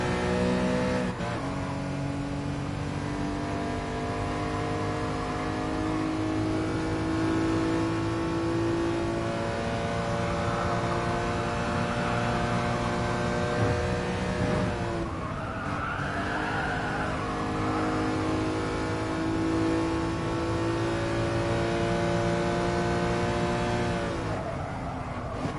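A BMW M3 races in GT Sport, its engine droning loud and steady with rising and falling revs through gear changes, tyres squealing at moments, no voices over it.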